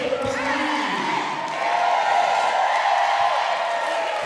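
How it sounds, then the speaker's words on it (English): Roller derby crowd at a USA vs. Chile World Cup bout, shouting and cheering for their team; a steady, dense wall of loud voices fills the hall, with a brief clatter near the start. "se puede escuchar la gente aquí que está gritando por su equipo"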